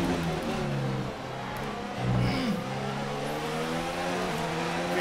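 Formula 1 car in F1 2019 at full throttle on the Austria circuit, a steady high engine whine climbing through the gears, loud and continuous throughout with other cars' engines layered underneath.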